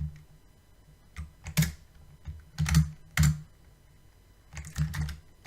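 Computer keyboard keys are typed in scattered bursts while someone writes Haskell code, the clicks fairly close and quiet against a low background hum, with pauses between clusters of keystrokes.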